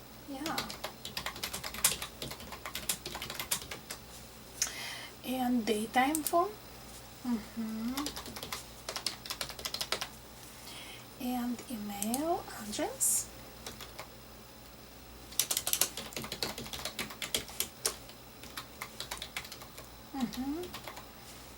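Soft keyboard typing in quick bursts of clicks while a job application is filled out in an ASMR roleplay, with a soft voice speaking quietly between and over the keystrokes.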